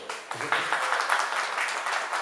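An audience at a cultural school program in New York gives a round of applause, a steady wash of many hands clapping at moderate volume with a brief voice near the start.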